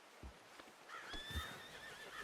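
A horse in Red Dead Redemption 2 gives a high, wavering whinny lasting about a second, with soft snorts and hoof thuds around it, fairly quiet and with no talk.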